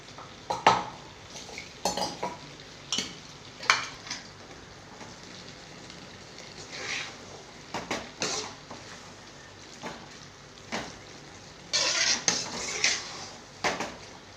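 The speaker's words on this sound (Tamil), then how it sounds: "அந்த பவுடரை போட்டுடலாம் போட்டு கிண்டிக்கலாம்" Spice powder being stirred into masala in a cooking pot: a spoon scrapes and clanks against the metal in irregular bursts, close and fairly quiet, with softer scraping between the knocks.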